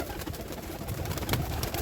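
Soft pigeon cooing murmurs through a busy, noisy background at a pigeon sale with many breeds, with several birds calling close together and no clear talk.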